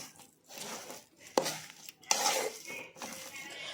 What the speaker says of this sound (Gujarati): હવે તેને આપણે મિક્સ કરીશું માવાને આ રીતે